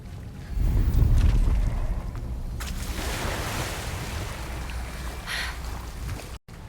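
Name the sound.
bubbling water in Hogwarts Legacy video game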